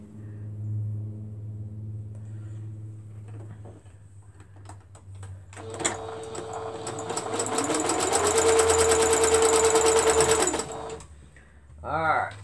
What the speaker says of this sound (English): I'm going to sew these two together first.